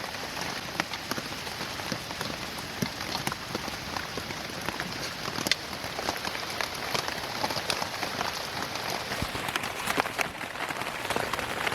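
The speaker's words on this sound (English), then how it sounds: "As you can see, it's raining." Steady rain drums on a tarp shelter at a bush campsite on Crown Land, a dense continuous patter with occasional louder drops, unbroken throughout.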